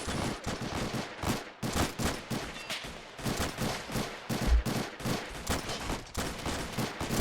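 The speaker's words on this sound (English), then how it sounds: "I hear a machine gun going off," Machine gun fire in the game Army Men: Plastic Wars, a dense ongoing rattle of rapid bursts with brief pauses, loud and continuous, with no talking.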